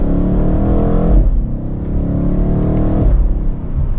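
A 2024 BMW M8 Competition Convertible accelerates hard in sport mode in second gear, its engine droning and rising in pitch, with a quick upshift and the pull resuming, loud and close from inside the cabin.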